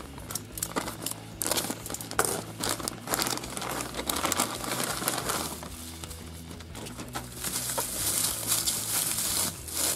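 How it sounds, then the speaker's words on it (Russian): Someone opens a large but very light plastic parcel bag, producing continuous crisp crinkling and rustling for about ten seconds, close by, with no speech. "Осталось открыть последний пакет."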